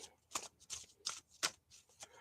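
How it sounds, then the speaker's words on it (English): A deck of cards gets shuffled close up, a quick series of crisp riffling bursts in an uneven rhythm with no voices. "I shuffle"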